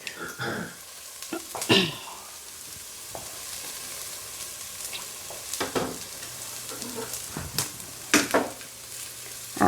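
Garlic frying in a pan for vegan chili, a soft steady sizzle with sharp clinks and scrapes of stirring scattered throughout, no talking.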